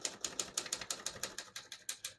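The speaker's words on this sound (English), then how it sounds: "I'll type a sentence on the next line" Typing on a 1954 Smith-Corona Skyriter portable typewriter, a steady run of about a dozen crisp, evenly spaced key strikes, close and clear with no talking.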